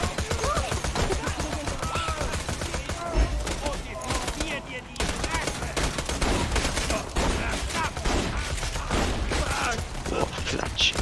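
Sniper rifle fire in Borderlands 2 cracks out in repeated shots amid dense game noise, with people talking over the loud, busy mix.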